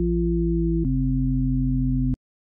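A Serum synthesizer bass patch with an added octave harmonic on oscillator B plays as a steady, clean, low sustained tone that steps down in pitch once partway through, then cuts off abruptly.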